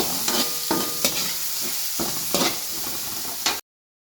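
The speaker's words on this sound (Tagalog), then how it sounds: "So, first thing to do, gisa-gisa. And bawang and sibuyas." Garlic and onion sautéing in hot oil for beef kaldereta, a close steady sizzle broken by repeated scraping strokes of a spatula against the pan, with no voices before a sudden cut to silence.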